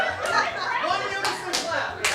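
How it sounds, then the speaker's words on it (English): An improv comedy audience in St. Pete claps in unison, making a few sharp, loud collective claps at uneven intervals, with a voice talking and some chuckling in between. "Unison clapping."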